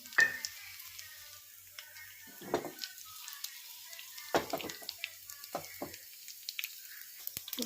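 Quiet, steady sizzle of tempering spices, curry leaves and garlic in hot oil for gongura chutney, with scattered pops and a few scraping clinks now and then; no voices.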